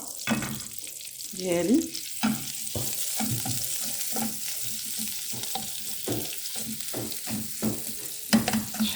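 Minced-meat kefta fries in a little oil for a pizza topping, a close, continuous sizzle broken by repeated stirring scrapes and clatters, with a brief spoken word early on.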